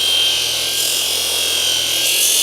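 A farrier chamfers the outer branch of a horseshoe, giving a loud, steady, close abrasive grinding hiss that runs unbroken and even throughout, with no speech.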